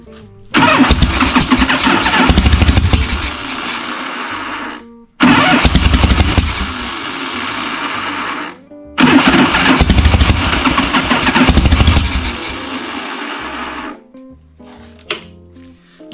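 A 1974 AMF Harley-Davidson Shovelhead 74 cubic inch motorcycle engine, poorly running with a carburetor fault, cranked and sputtering in three loud close attempts of a few seconds each, each cutting out abruptly, with quiet gaps between.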